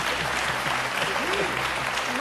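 A studio audience on a French TV game show breaks into steady, broadband applause, loud and continuous, while voices talk over it.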